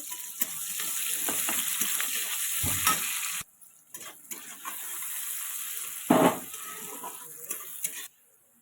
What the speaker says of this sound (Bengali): তারপরে দিয়ে দিচ্ছি কুচি করে রাখা পেঁয়াজটাকেও লাল লাল করে ভেজে নেব